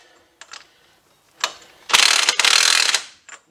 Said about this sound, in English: I'm just going to hit that just a little bit with the gun here to not tighten it, but just to seat that in there